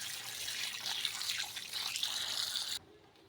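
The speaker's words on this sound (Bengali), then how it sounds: "এইটা কলটা চালিয়ে ভালো করে চুবড়ির মধ্যে মাছগুলোকে নেড়ে চেড়ে আমি ধুয়ে নেব।" Tap water runs steadily as prawns are washed and stirred in a basket under the faucet, a continuous close hiss of flowing water that cuts off abruptly near the end.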